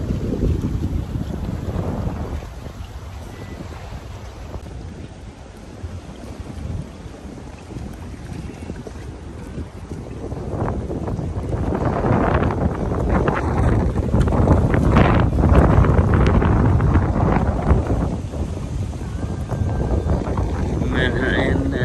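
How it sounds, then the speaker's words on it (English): Wind gusting across Randalls Island in New York City, a steady broadband rush that swells louder in the second half, buffeting the microphone near the waterfront. "The wind, the breeze feels amazing."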